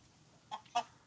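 A Vellaadiyan rooster gives two short, soft clucks outdoors, fairly faint over low background noise, with no one talking.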